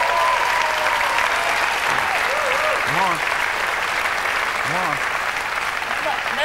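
TV studio audience applauding to welcome a musician onto a British music show, dense continuous clapping with whoops and cheers rising over it, loud and close.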